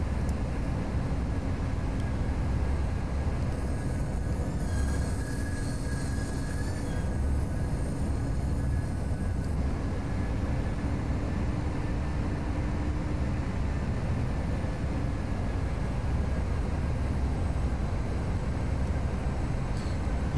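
Airliner climbing out on a go-around in Flight Simulator X: a steady, loud broadband engine roar holds throughout with a low drone, plus a brief high tonal whine near the middle, no talking.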